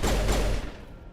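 Sniper gunfire in the video game Mass Effect: a loud, sharp burst of shots in the first half-second that quickly fades into a short decaying tail, with no talking.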